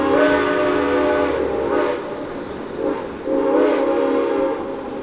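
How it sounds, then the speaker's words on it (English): Great Smoky Mountains Railroad 1702 steam locomotive sounds long whistle blasts, rich multi-tone chords held over a second each, three in a row, carrying from a distance as the train approaches near a truss bridge over the Tuckasegee River. "We heard the train long before we saw it."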